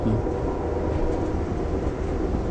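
Amtrak passenger train on the Chicago to New Orleans route rolling along the tracks in Mississippi, a steady, loud rumble and rattle of the railcar with no pauses and no talk.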